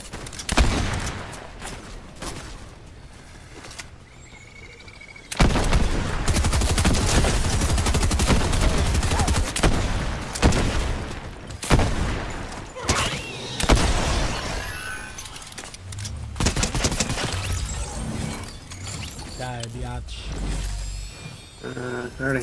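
Bursts of gunfire from shooters in Tales From The Loop, dense rattling volleys and sharp cracks, loud and fairly close, with heavy game noise and music layered underneath.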